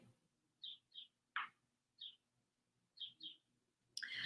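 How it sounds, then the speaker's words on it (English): Birds chirp outdoors in short, repeated high bursts, about six quick calls spaced irregularly over a few seconds against a quiet background, ending in a louder rustling burst. "You guys hear the birds out there? They're just chirping away."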